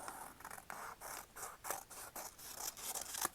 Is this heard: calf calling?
no